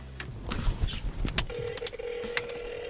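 Phone call being dialed: a series of short, sharp tones and clicks sounds close by over faint background noise, with a steady tone following the keypresses.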